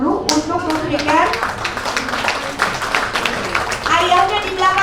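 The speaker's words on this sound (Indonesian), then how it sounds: "Kita tepuk tangan dulu" An audience at a breast cancer awareness event claps hands together in a lively, close burst, with a voice speaking over the clapping.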